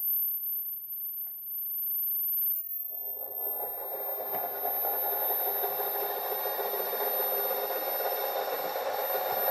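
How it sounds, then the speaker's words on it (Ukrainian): Near silence, then an electric motor drawing about 100 watts, driven by a resonant circuit, whirs to life and runs with a steady, even hum and faint high whine. "Як ви чуєте, двигун працює"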